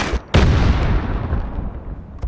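Heavy mortar fire in the Modern Warfare video game on Xbox: a sharp, loud blast near the start, followed by a long rumbling boom and decaying roar that fills the rest of the moment.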